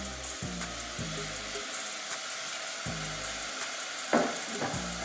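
Onions cook in a pan with brown sugar and balsamic vinegar, giving a steady close sizzle with a few brief stirring scrapes and small spatters along the way, and no voices.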